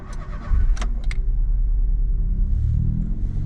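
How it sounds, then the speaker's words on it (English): Starter clicks, then a Honda Z kei car engine catches and settles into a steady, close low rumble at idle. "But now, let me start her up."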